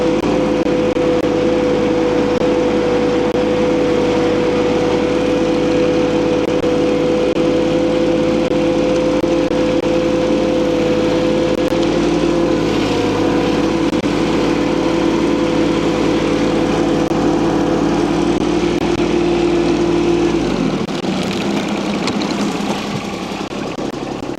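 A tractor engine runs steadily on a farm, a loud close drone with a strong low hum that holds for about twenty seconds before the engine cuts off and the sound drops away.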